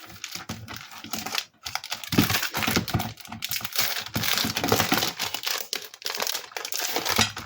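Paper cards are trimmed at the corners during a craft session, giving close, dense crinkling and snipping sounds in quick irregular bursts.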